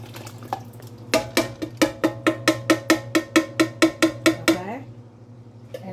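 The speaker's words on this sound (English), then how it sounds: "I'm going to add 1 can of spaghetti sauce." Spaghetti sauce is added to a pot of five-bean chili, with about fifteen rapid, evenly spaced metallic clinks of a utensil tapping a can or pot, close and clear over a low steady hum.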